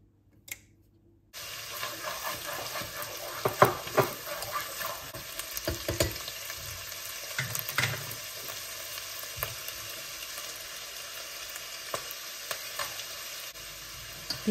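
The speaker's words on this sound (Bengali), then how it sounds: "এরপর দিয়ে দিচ্ছি পেঁয়াজ বাটা" Onion paste hits hot oil and homemade ghee in a pan and sizzles steadily, with occasional stirring clinks and scrapes, close and without talk.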